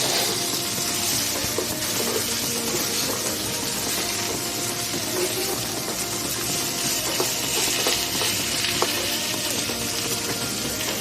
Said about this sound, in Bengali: তেলে দিলাম কালো জিরে, দিয়ে শাকগুলো দিয়ে দিলাম, দিয়ে এগুলোকে ভালো করে এখন মিক্স করে নেব